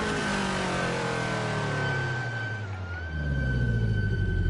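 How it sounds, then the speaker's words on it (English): A Ford GT40 in Assetto Corsa, set at 1966 Monza, gives off a steady high brake squeal that dips briefly, over a loud droning engine rumble that drops and then swells again. "Squeaky brakes."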